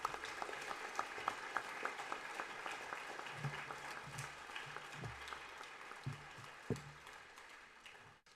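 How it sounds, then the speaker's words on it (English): A seated crowd at a senior awards day ceremony applauds graduating seniors, sustained even clapping heard at a moderate distance with a few louder thumps, tapering off at the end. "Let's give them all a round of applause."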